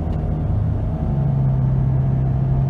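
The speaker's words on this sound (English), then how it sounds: "I've got a wheel bearing going bad on my front passenger side." Inside a car with a failing front passenger-side wheel bearing, a loud, steady low rumble and drone carry on unbroken while driving.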